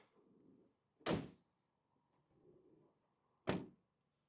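Two sharp, solid thunks of a Renault Trafic 2.0 diesel cargo van door shutting, a couple of seconds apart, with quiet rustling between them.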